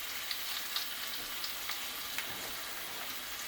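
Boneless chicken thighs frying in a pan, a steady close hiss of sizzling oil with small pops and crackles scattered throughout, no talking.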